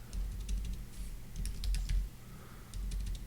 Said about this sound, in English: If I can type it right